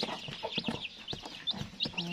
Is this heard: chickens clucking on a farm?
yes